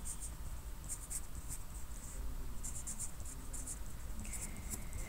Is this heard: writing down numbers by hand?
yes